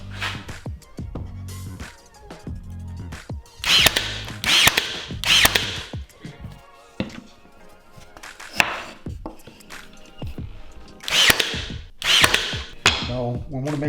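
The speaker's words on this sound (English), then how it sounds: "we're going to use our brad nailer to kind of hold it together until it dries" Brad nailer driving brads into glued wood pieces while building a shop glue rack, a series of sharp percussive snaps in quick clusters, close and fairly loud, with people talking in between.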